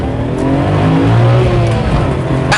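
A Nissan Skyline R34 GT-R accelerates hard, its engine note loud and close with a steady rising drone that carries through the whole short burst, with no talking over it.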